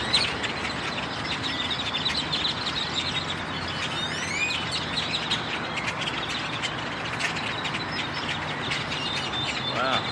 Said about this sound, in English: Birds are going nuts here in Dallas, Texas tonight.